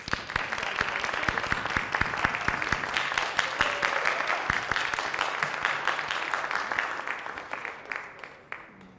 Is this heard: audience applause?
yes